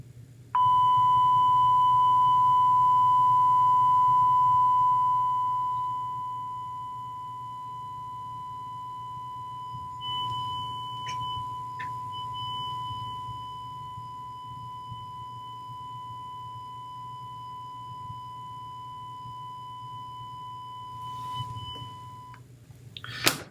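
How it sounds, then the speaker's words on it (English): A steady 1 kHz sine tone plays from iPhone speakers mounted on a rotating device, starting loud and then holding at a lower level for about twenty seconds. A few faint clicks and a low background hum sit beneath it. "now let me play a 1 kilohertz sine wave to this thing as it's rotating"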